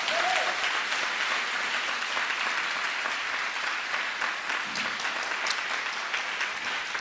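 A church congregation breaks into loud, sustained applause, dense continuous clapping that fills the whole stretch with no talk over it.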